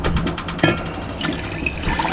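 Water poured from one beaker into a second beaker, with ash and light particles suspended in it: a fairly close, steady splashing trickle lasting a couple of seconds, with no voices.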